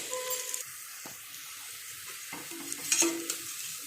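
Onions sautéing in a pan for chicken biryani, with a soft sizzle broken by scraping stirs and a few clinks, close and moderately quiet, with no talking.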